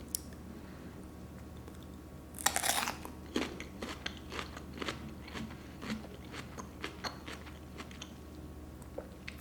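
A crunchy, unripe donut nectarine is bitten once with a sharp crunch, then chewed in a steady run of small, close crackling crunches, with no talking.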